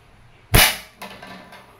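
A Crosman 1322 multipump airgun, pumped three times, fires one sharp cracking shot at a tin-can target, followed by a short decay and a fainter thud of impact about half a second later.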